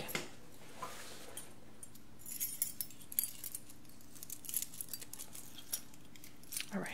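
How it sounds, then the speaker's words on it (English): Small metal keys jangle and clink in a quiet indoor room, with a run of soft, close, scattered metallic taps and rattles that come and go over several seconds. "Alright, whose keys are these?"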